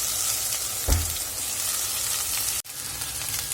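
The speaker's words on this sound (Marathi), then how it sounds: "गॅस आपला लो टू मिडियम वर ठेवून भेंडी आपली छान भाजून घ्यायचे" Okra frying in a pan over low to medium gas heat, a steady broadband sizzle that holds through the clip, with one brief low thump near the start and a short dropout later.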